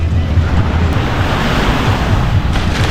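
Sea waves at Dimlas beach in Dagupan, Pangasinan, roll in as a loud, continuous wash of surf mixed with gusting wind buffeting the microphone, close and unbroken with no talk.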